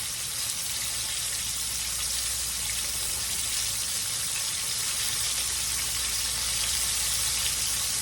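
Chicken fried steaks sizzle steadily in a big 13-inch skillet, a dense, even hiss of hot oil that stays loud and constant from start to finish.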